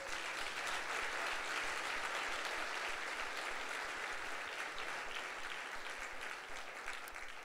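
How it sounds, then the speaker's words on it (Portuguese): A church congregation claps for the Lord during a Sunday worship service, a dense, steady wash of applause that fills the room and holds at an even level throughout, with no voices over it. "Vamos dar um aplauso ao Senhor?"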